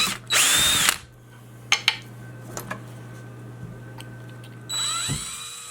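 A power drill bores a hole through a Leatherman Micra multitool: two bursts of high whining drilling at the start and end, separated by a low steady hum and a few sharp clicks and taps.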